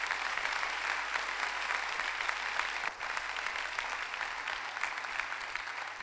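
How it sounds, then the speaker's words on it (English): An audience at an Indiana Supreme Court oral argument session held at Anderson University applauds in a steady, dense wash of clapping that continues evenly for several seconds, moderately distant, with no voices over it. "we'd love to give a round of applause to President Pistol"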